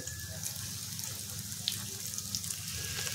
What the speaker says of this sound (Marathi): तेल चांगलं गरम झालेलं आहे। आता त्याच्यामध्ये आपण कटलेट सोडून घ्यायचे।